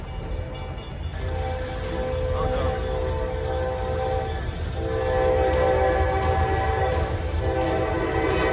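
Train closing in on a semi-truck stuck on the tracks, its horn blaring in long sustained blasts over the rumbling roar of the approaching locomotive, growing louder toward the end.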